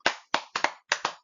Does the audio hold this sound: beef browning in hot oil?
no